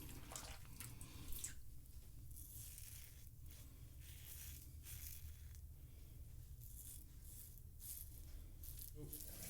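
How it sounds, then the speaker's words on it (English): Tap water runs steadily into a bathroom sink after shaving, a continuous splashing stream with small clinks and shifts in the flow throughout. "Now that I'm done shaving, I switch it to cold water."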